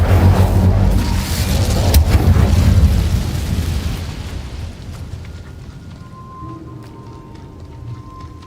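An Incendio fire spell cast in Hogwarts Legacy bursts out as a loud, booming whoosh with a sharp crack near the start, then fades into a softer rumbling tail and quiet background tones.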